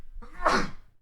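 A single sneeze, close and moderately loud, a brief rising burst over quiet room tone during a casual podcast conversation.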